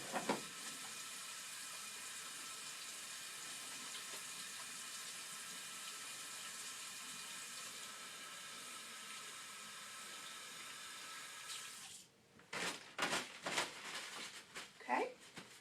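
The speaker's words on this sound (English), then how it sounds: "Wash my hands." Steady hiss of tap water running into a sink as hands are washed after a bed bath, continuous for about twelve seconds before it stops and gives way to handling clatter.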